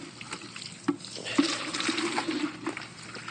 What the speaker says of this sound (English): And you're going to fill this bucket up.